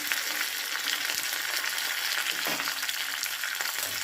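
Dried red chillies and curry leaves fry in hot oil with a continuous bright hiss and crackle, a few spatula scrapes cutting through near the middle, close and moderately quiet, no voices.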